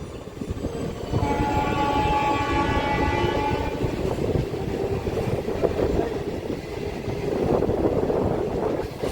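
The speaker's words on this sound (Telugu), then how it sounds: "స్టార్ట్ అయిపోయింది మన ట్రైన్" MMTS local train in Hyderabad starting and running, with a horn blast at the start followed by a steady rolling rumble of wheels on track, loud and close.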